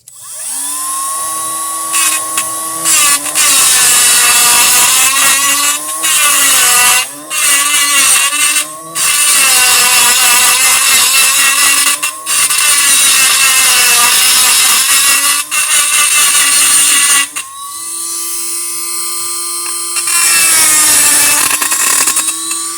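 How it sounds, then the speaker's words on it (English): A Dremel rotary tool grinds down grounding points on a 1970 El Camino, a loud high-pitched whine in repeated bursts with brief pauses between, close up and alone. "I have my Dremel tool here. I'm gonna try to grind it down a little bit."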